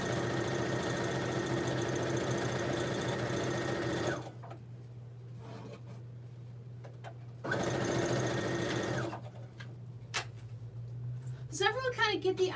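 A Brother CS6000i sewing machine stitches tote bag panels with a loud, steady motor whir in two long runs separated by a pause with small clicks, and a voice speaks briefly near the end.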